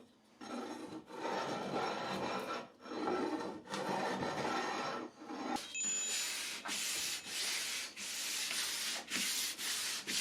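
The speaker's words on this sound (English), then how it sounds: "There's something hypnotic about hand sanding your project" Steady rhythmic rasping of sandpaper on wood, long back-and-forth strokes repeating evenly with brief pauses, close and fairly loud.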